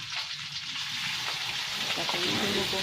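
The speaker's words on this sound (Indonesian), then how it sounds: "bawang merahnya sama daun kari, kapulaga, serai, pandan, bawang merah, kayu manis. Kita tumisnya." Shallots, curry leaves, cardamom, lemongrass, pandan leaves and cinnamon sauté in hot oil for an Acehnese red duck curry, giving a steady close sizzle and crackle that holds even throughout, with a few faint stirring scrapes.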